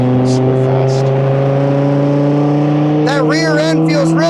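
Dodge Viper SRT10 ACR-X engine on a track, a loud steady drone with strong low harmonics held throughout, while people talk over it near the end.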